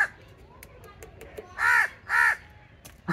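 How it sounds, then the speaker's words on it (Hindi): A crow perched nearby gives two loud, harsh caws in quick succession, each about half a second long, over faint background noise and scattered small clicks. "ये देखें यहाँ पे कौवा बैठा हुआ है"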